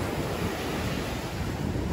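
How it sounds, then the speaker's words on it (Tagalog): A continuous broad roar of strong ocean waves at a beach in Zambales mixed with wind, steady and fairly loud, with no talking. "sobrang lakas ng alon guys"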